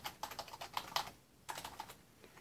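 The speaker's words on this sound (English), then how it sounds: "It's a very nice keyboard. Nice and quiet." A new Logitech MK520 wireless keyboard clicks under quick bursts of typing, soft and quiet keystrokes in two short runs with a brief pause between, recorded close.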